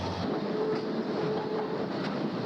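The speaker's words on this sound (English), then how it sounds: "they use a switching engine, which is a small diesel locomotive." Steady, continuous rumble of a small diesel switching locomotive moving with freight cars, a constant engine drone with faint rail noise, close and fairly loud throughout.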